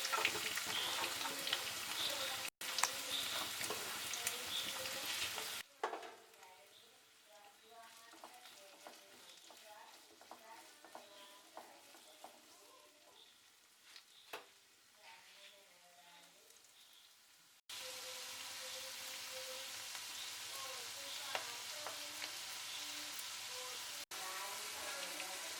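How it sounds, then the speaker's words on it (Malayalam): Chopped onions (three, sliced) tossed into well-heated oil and sautéed for an omelette curry, a steady crackling sizzle with scattered pops, louder at the start and end and quieter through the middle stretch. "അതിലേക്ക് ഒരു 3 സവാള അരിഞ്ഞതാണ്. അതിട്ട് ഒന്ന് വഴറ്റി കൊടുക്കാം."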